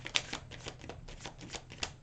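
Quick riffling tarot card shuffle, a crisp flurry of papery flicks with sharper snaps near the start and end, fairly close and moderately quiet.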